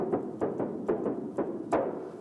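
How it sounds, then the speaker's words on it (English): Filtered noise from a Hypersynth Xenophone synth's noise oscillator, pushed through distortion, plays alone as a rhythmic series of gritty, hissy bursts with sharp attacks, about seven hits over two seconds. "Filtered noise basically, run through some distortion."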